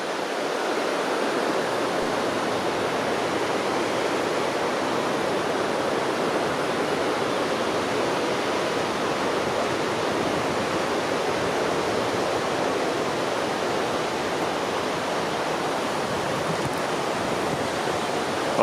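At the Cirque de Gavarnie in the Hautes-Pyrénées, a large waterfall roars in a dense, unbroken rush of water, loud and constant throughout with no voices.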